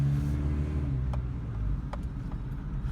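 Honda CR-V with a B20Z engine pulling away on a drive, a steady low engine drone with a brief rising rev near the start and faint clicks on top, no talking.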